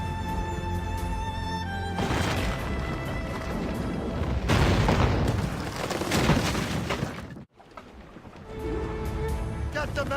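Loud cannon broadsides boom and crash in an Assassin's Creed Rogue naval battle, thick layered blasts with a short silent gap, under shouted crew commands and game music.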